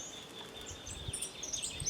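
Greater thornbird (espinero grande), an Argentine ovenbird, calling outdoors: faint, thin high chirps and short notes scattered over a soft, steady background hiss.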